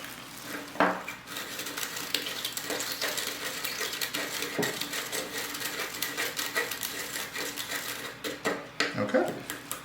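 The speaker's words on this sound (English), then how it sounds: "Give it a good stir with your other stirring" A stirring rod swirls limestone in water during an acid rain and buffers lab, giving a steady scraping swish with a few sharp clinks against the container, close and fairly quiet.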